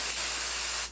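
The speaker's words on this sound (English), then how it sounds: "some more hairspray and I'm just gonna spray it on my hair" Hairspray misting onto hair from an aerosol can, one continuous bright hiss close to the mic that trails off at the end, with no talking.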